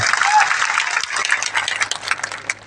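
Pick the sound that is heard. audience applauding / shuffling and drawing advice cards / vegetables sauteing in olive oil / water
audience applauding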